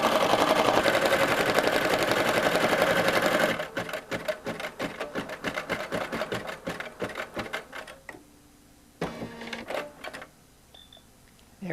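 An embroidery machine stitches a design on its own, a loud dense whir for a few seconds, then a rapid steady needle clatter with quieter pauses and short bursts near the end.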